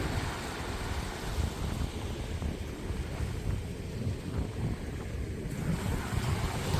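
Surf rolls in along the sea shore as a steady rushing wash, mixed with gusty wind buffeting the microphone, with no speech.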